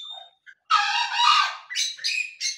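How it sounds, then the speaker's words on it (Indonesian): A jungle fowl calls during the day near an aviary, a close, loud harsh squawk followed by a few shorter, broken bursts. "ayam hutan ini ternyata kalau siang seperti ini dia gacor gitu ya"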